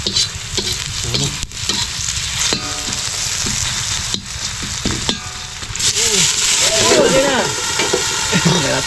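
Shrimp frying in a pan are stirred, giving loud, close sizzling with repeated scraping strokes, while a voice talks faintly underneath.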